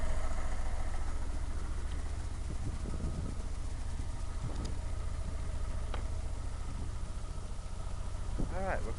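A new Atomic 4 inboard engine runs on a sailboat cruising off Florida, a steady low throbbing drone close by with faint voices mixed in.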